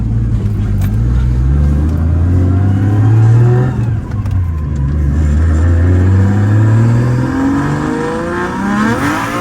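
A 600 HP RB25DET-engined road-registered car accelerating hard, heard from inside the cabin, its engine note climbing through several rising sweeps with gear changes between them, loud and continuous with no talk.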